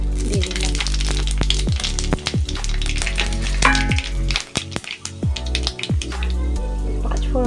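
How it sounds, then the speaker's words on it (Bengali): Panch phoron spices hit hot oil in a kadai and crackle loudly up close, a dense run of sharp pops and spits over a continuous sizzle. "তো এর মধ্যে এখন আমি পাঁচফোড়ন দিয়ে দিলাম।"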